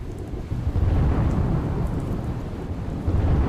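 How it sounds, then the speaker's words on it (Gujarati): Steady, heavy downpour over Junagadh city, a dense continuous rush of rain with low rumbling underneath and no voices. "જૂનાગઢ શહેરમાં અવિરત મુશળધાર વરસાદ પડ્યો છે"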